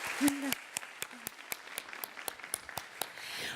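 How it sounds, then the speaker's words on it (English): Sparse, evenly spaced claps from an audience at a youth summit, faint and somewhat distant, with a voice briefly audible at the start. "round of applause"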